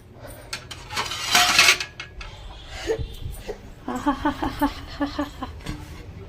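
A plate clatters down over a pan of field beans on the stove, with a quick burst of rattling clinks and scrapes after some earlier kitchen clatter, and faint voices and laughter nearby.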